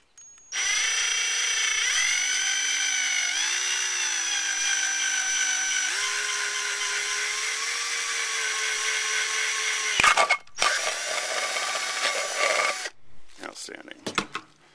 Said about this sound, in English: So we're going to take the drill